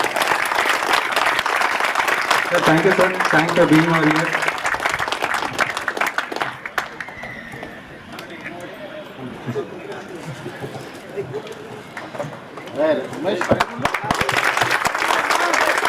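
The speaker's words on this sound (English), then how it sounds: "Please give him a big applause." Audience applause at an alumni gathering honoring a former head of department, steady dense clapping that thins midway then swells again, with someone speaking briefly over it near the microphone.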